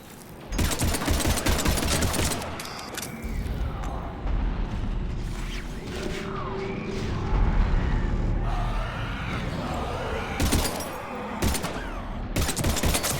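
Combat in Mass Effect 3 against Husks: bursts of rapid gunfire crack repeatedly over a rumbling low background, with pauses between volleys and voices shouting faintly in the mix.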